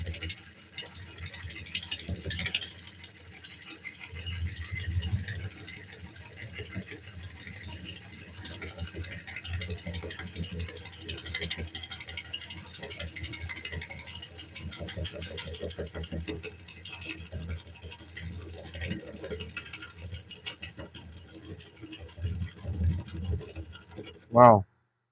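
Lathe tool cutting a wooden bowl and shaving end grain, giving a faint, continuous scratchy rattle that goes on for the whole stretch, quiet and steady with small swells.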